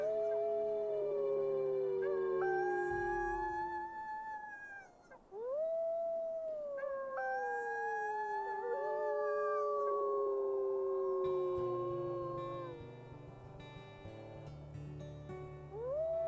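Several wolf pups howl together in a video game, long rising and falling wails overlapping near and loud for about sixteen seconds, with one brief pause near the middle before the chorus resumes.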